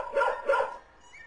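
Two quick dog barks from a library sound effect, loud and close, with a faint tail afterward and no other sound.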